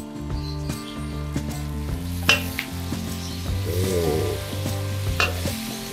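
Onion frying with garlic and dried chili in a pan, bright continuous sizzling broken by spatula scrapes and stirring clatter against the metal, close and lively with no talk.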